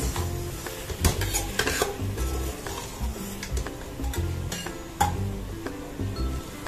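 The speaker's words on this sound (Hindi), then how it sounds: "अब हम इसको 2-3 मिनट के लिए भून लेंगे।" Mutton keema fries in a pan while being stirred, with a spoon clinking and scraping against the metal in irregular strokes over a steady, close sizzle.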